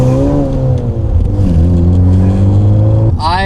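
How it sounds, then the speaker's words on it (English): Honda Civic Type R with rolling anti-lag, its engine droning loud from inside the cabin as it accelerates, the pitch climbing steadily, dipping at a shift, then rising again in a sharp rev at the end. "But we're in a Civic Type R today. It's got rolling anti-lag."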